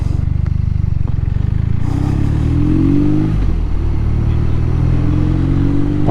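A BMW R nineT 719 motorcycle engine revs and accelerates on an open road, a loud, close, low rumbling drone that rises in pitch as the bike pulls away, with wind buffeting and no talk.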